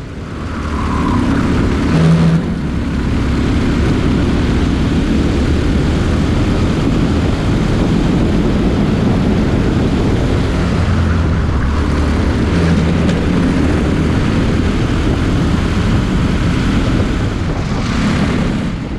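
A LO206 go-kart engine runs steadily through a qualifying lap around a karting track at Motorplex, a loud continuous drone close to the mic with slight shifts in pitch and no pauses.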